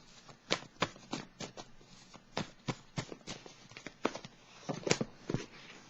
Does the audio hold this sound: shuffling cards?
yes